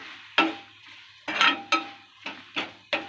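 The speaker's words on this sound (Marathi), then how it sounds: "परतून घेऊया" Dry karandi fish, small dried shrimp, being stirred with salt in a pan, with a spatula scraping and clattering against the metal in about six separate bursts.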